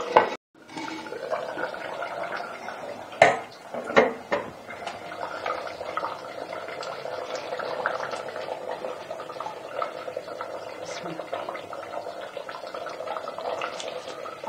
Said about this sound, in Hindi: अब चूल्हा बंद करके इसको उतारते हैं।